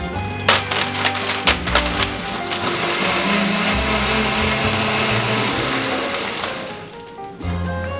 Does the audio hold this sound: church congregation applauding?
no